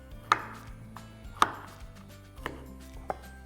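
Four sharp knife chops through cauliflower florets on a cutting board, spaced about a second apart, close and fairly quiet, with no talking.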